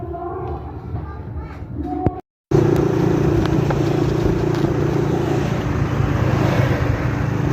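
Motorcycle engine droning steadily on a road ride, loud and close with a constant hum and wind rush, following a brief cut to silence after some earlier engine and road noise.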